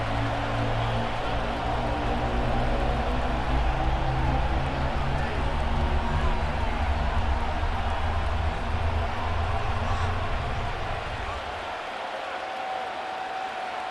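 Video game crowd of 49ers fans at Levi's Stadium in Santa Clara, a steady dense roar of cheering with a low droning hum underneath that drops away near the end, leaving the crowd noise alone.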